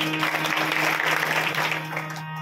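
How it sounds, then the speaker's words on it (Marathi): Audience applause at a kirtan service in Babhalgaon, a dense steady wash of many hands clapping together, loud and close, with a low hum underneath, tailing off slightly at the end. "छान, टाळ्या वाजवायच्या"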